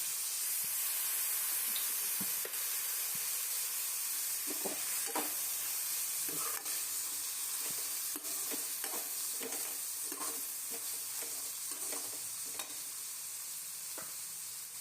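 Soy sauce hits sautéed vegetables for chicken jalfrezi, a steady loud sizzle with spattering hiss throughout and scattered scraping stirs, no talk.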